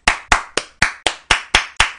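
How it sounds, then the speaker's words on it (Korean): Eight sharp, evenly spaced hand claps, close and loud, cheer on Samsung Electronics service union workers. They come at a brisk, regular beat, each with a short ringing tail, with no talk over them. "우리 삼성전자 서비스 지회 노동자들을 위해서 박수 한번."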